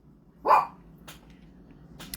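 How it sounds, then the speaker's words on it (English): A dog gives a single sharp bark indoors at moderate distance, followed by quiet room tone and faint small ticks. "I'm sorry about the dogs barking."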